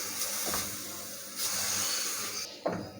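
Spices with a tablespoon of water roasting in a hot pan for a potato samosa filling give a steady broad hiss, with louder sizzling bursts near the start, in the middle and at the end.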